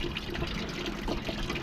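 Coolant water leaking and pouring from the water pump of an LT1 engine, a steady close gushing splash that runs without pause, with no talking over it.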